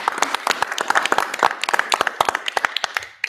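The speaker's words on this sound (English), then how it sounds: "a round of applause." A small audience at a commission meeting gives a brief round of applause, a few seconds of close, scattered clapping that fades out.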